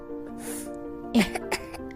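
A child with a cold and fever gives a short burst of coughs and throat clearing, a couple of quick rough bursts against a steady tonal background.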